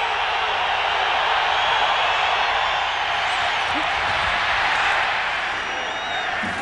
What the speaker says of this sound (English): The crowd getting into it in the previous snap.